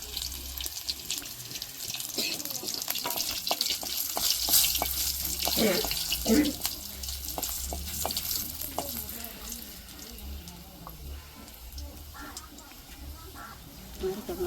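Garlic sizzles steadily in hot oil as the tempering for a tribal taro curry, a continuous close frying hiss with occasional stirring, while a person talks over it.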